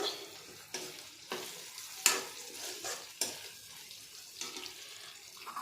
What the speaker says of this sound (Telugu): ఇంకొంచెం ముక్కలు వేగిన తర్వాత